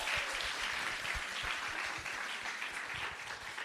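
Steady applause from a crowd at an Ori Tahiti dance group competition in New York City, dense clapping throughout with no pauses, moderately loud and without voices.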